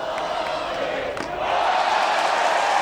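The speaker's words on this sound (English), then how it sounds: "You see the crowd is counting the balls with Hochschild." Spectators at a 2012 NCAA Tournament college baseball game between Dayton and Texas A&M chant together, counting balls; the crowd noise runs as a steady, fairly distant wash that grows louder halfway through.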